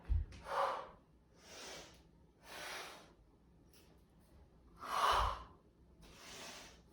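Heavy, effortful breathing from someone pushing through a 30-minute forearm workout: a string of breathy exhales and gasps, about six bursts over several seconds, close and fairly quiet, with no talking.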